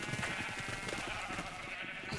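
Sheep bleat at a Minecraft sheep farm in quick, wavering calls that overlap into a soft, continuous bleating chorus, fairly faint and heard alone.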